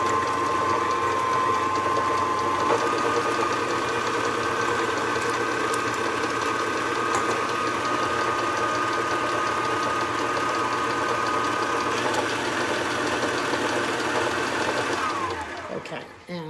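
An electric stand mixer runs steadily through cookie dough of butter, sugar and eggs for pecan coconut chocolate chip cookies, a constant close motor whir with rhythmic beater clatter that winds down and stops near the end.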